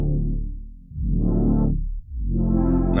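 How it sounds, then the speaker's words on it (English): Synth chords from ChordKits in Ableton Live sustain in three long swells while a filter sweeps open and closed, brightening and darkening each chord. The sound is loud and close, with no voices. "If I play and I tweak a little bit so you can get an idea of the sounds, you'll hear the filter first."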